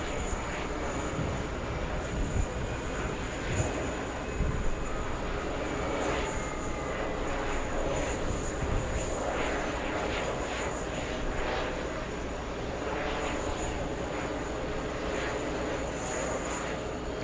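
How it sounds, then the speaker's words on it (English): An Airbus A380 auxiliary power unit runs at JFK airport, a constant whining hum with a high tone under broadband rumble, steady and moderately loud throughout. "The sound of that APU of the A380 doesn't sound as loud as before."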